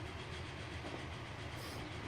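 British, American and German trains race in Transport Fever. A continuous rumble of rolling wheels with a faint clickety-clack runs steadily throughout, with no talking.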